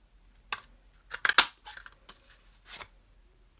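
Scissors cutting a paper Christmas tag: several crisp snips and cutting strokes, a quick double snip in the middle, close and clear in a quiet room with no talk.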